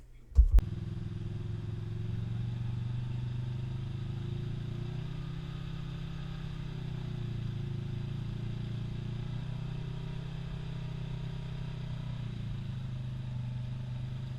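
A UTV stuck in mud, hung up on its skid plate, runs its engine in a steady low drone with a slight swell of revving after a brief clunk at the start. It sounds close and continuous throughout.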